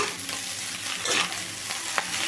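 Leftover rice is stirred in a hot pan over high flame for egg fried rice, close, continuous sizzling with scraping spatula strokes and an occasional sharp tap against the pan.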